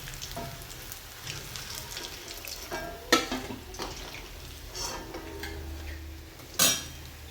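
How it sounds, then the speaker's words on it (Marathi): Sabudana vadas frying in hot oil give a steady sizzling hiss, with a few sharp metal clinks from a slotted spoon or pan as the crisp vadas are lifted out. "मस्त आता हे झाले तळून. आता आपण याला काढून घेऊया."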